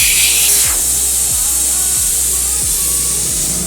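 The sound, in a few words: air hissing out while airing down truck tires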